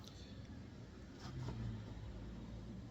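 A FedEx delivery vehicle drives past outside, its engine and road rumble swelling toward the middle and easing off again, heard steadily from a short distance with no talking.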